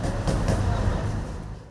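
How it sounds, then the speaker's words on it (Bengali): A passenger train departs Kamalapur station, giving a brief low rumble and rolling clatter at moderate distance that fades slightly toward the end. "কমলাপুর থেকে নির্ধারিত সময় ছাড়ছে ট্রেন।"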